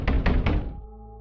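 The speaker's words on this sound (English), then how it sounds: "a sudden burst of violent knocking slammed through the wall." Three heavy thuds pound through a wall in a quick, uneven burst, loud and close, then give way to a low lingering hum.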